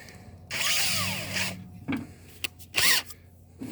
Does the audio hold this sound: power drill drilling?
yes